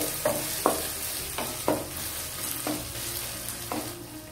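Tomatoes frying in a pan for uppittu, a quiet steady sizzle with about six evenly spaced scraping strokes of a spoon stirring, close up and without speech.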